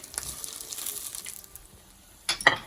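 Jamaican saltfish fritters with callaloo frying in a pan: a soft, steady sizzle that ends in a brief louder burst of crackling and scraping as the fritters are turned.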